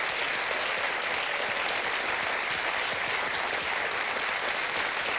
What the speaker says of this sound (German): Also das, finde ich, ist einen Applaus wert.